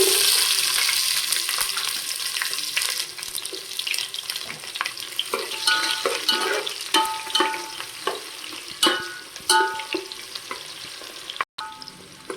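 Onions fry for a Rayalaseema-style mutton pulao, the pan giving a constant sizzle broken by scraping stirs and clinks of the spoon, close and moderately loud throughout.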